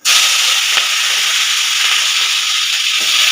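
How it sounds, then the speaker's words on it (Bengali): Beans and pumpkin fry in hot oil in a pan, giving a loud, continuous, even sizzle with no talk over it. "এবার বটবটি আর কুমড়োটা ভেজে নিচ্ছি"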